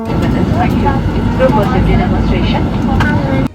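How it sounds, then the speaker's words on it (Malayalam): A loud, steady roar of jet engines builds inside an aircraft cabin as it speeds down the runway, with people talking underneath. "അങ്ങനെ ഫ്ലൈറ്റ് ഇതാ എടുക്കുന്നു."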